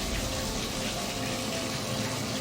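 Shower water running in a steady, dense rush of spray, close and continuous with no pauses.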